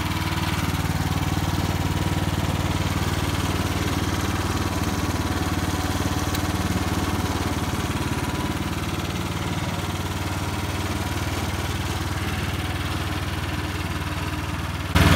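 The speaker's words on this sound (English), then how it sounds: "Engine is now running" A snow blower's small engine idles steadily with a low, even rumble and faint mechanical vibration, running continuously without changes in pitch.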